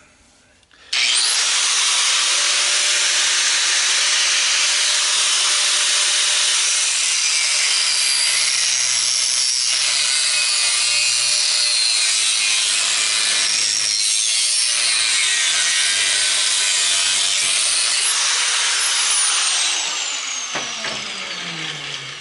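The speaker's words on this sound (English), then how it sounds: "I'm gonna kick in the angle grinder so it might get a little noisy guys" A loud angle grinder whines continuously for about twenty seconds while breaking down a scrap electric motor, a harsh high-pitched grinding that starts abruptly and holds steady, close by, with no talking.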